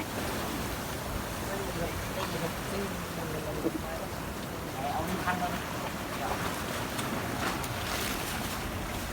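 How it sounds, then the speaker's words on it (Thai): Waves of the Sea of Japan wash continuously at Oarai beach in Japan in summer, a broad steady roar with wind buffeting the microphone. "ครับทะเลญี่ปุ่นนะครับ"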